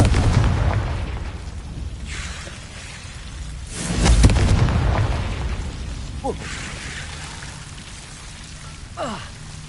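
The Confringo spell in a Harry Potter video game sets off a deep booming explosion midway, preceded and followed by softer crackling bursts and rumble, with a voice speaking nearby.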